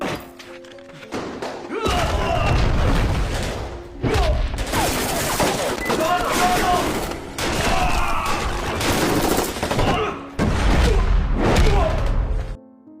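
Sustained gunfire from a police operation shootout in a crime drama film, heavy bursts of shots and thuds rolling on for most of the span with brief lulls, loud and dense, with a voice briefly under the action.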